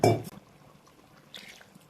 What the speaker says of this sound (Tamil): கொஞ்சமாக தண்ணி மிக்ஸ் பண்ணுங்க